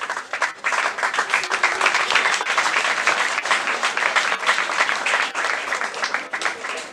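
Dense, steady applause from a gathered crowd at a school scholarship event, greeting a national deputy; loud and continuous for several seconds with a brief dip near the start.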